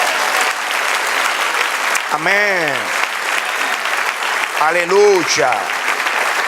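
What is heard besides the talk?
church congregation applauding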